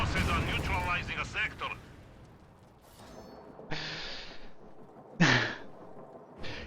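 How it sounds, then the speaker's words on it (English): Speech at the start, then a few loud, scattered booming bursts of a light artillery barrage in a strategy video game, spaced irregularly and fairly close. "And it dies to AT gunfire from the flank. And a light artillery barrage."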